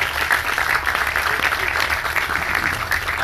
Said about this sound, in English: Please, a big round of applause to the Propelify leadership team.